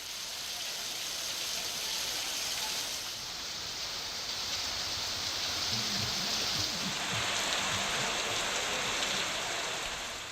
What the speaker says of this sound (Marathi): माजलगाव तालुक्यातही पाऊस कोसळलाय